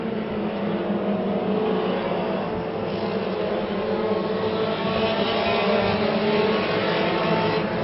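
Mini stock race cars roar around the oval at Orange Show Speedway in a 100-lap main event, a steady, loud, unbroken wall of engine noise with no voices on top.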